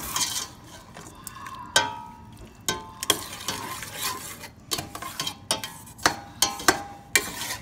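Shrimp cooking in a pan for crawfish étouffée, with a utensil repeatedly stirring and scraping against the pan in sharp, irregular clinks over a soft background sizzle.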